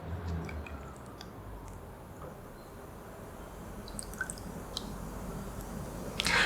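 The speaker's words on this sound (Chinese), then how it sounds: "那我呢是想要把它做一个过滤。" Oil strained through a filter during soap making, with faint, steady dripping and a soft liquid trickle, quiet and close, with a few small clicks and taps.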